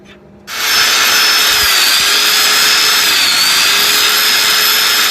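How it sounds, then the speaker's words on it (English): An angle grinder cleans up steel on a dump truck before welding, starting abruptly after a quiet moment and then running loud and steady with a high whine and grinding noise, nearby and with no talk. "So I'll clean this up with a grinder."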